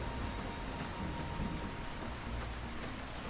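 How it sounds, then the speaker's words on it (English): Steady rain and rumbling thunder fill a stormy desert scene in the video game Fallout: New Vegas, a dense, continuous hiss at a constant level with no voices. "there's a sandstorm here and it's raining"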